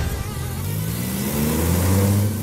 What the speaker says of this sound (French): le sifflement, on l'entend là. Ah ouais, ouais. Ah ouais, donc le turbo s'enclenche là